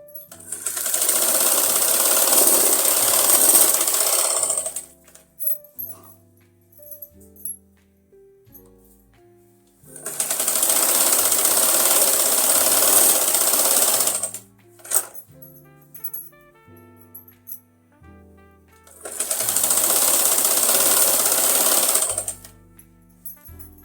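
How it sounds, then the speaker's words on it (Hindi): A sewing machine double-stitches a fabric back panel in three steady runs of about five seconds each, loud and close, with short quiet pauses and light handling noise between them. "इसको भी हम साथ में डबल सिलाई से कंप्लीट करेंगे"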